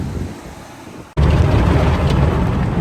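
An automatic car wash sprays water onto a 1988 Monte Carlo SS with T-tops, heard from inside the car as a quieter rumble that suddenly bursts into a loud, steady, close rushing hiss.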